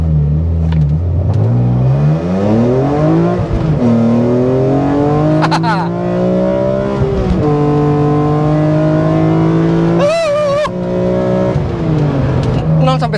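A BMW M3 E46 CSL launches without launch control and accelerates hard, its engine note climbing through gears with brief drops at each shift, loud and close from inside the car, under steady talk.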